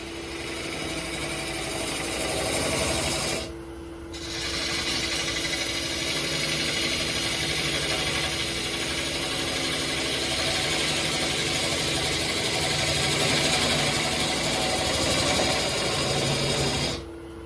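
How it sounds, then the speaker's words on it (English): A saw cuts slowly into the end grain of a log, making a loud, steady mechanical drone with a short pause near the start and a brief drop at the end, with no talking. "Realize that we're cutting into the end of the log, so this is all end grain. So it's going to cut kind of slow."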